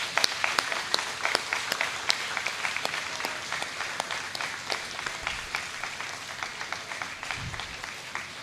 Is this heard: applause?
yes